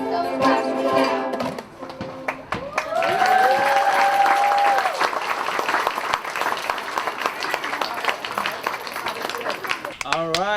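A crowd applauds loudly at an elementary school groundbreaking ceremony after children play ukuleles, sustained clapping mixed with cheering voices and a few whoops, running continuously for roughly ten seconds.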